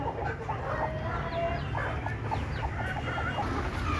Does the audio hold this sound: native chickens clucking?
yes